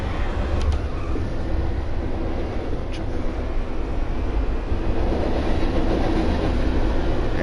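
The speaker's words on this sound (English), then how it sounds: "This train is really noisy out here." Loud, steady rumble of a passing train in a PS4 racing game, a constant heavy roar with faint clatter and a couple of brief high ticks, with no break for the full duration.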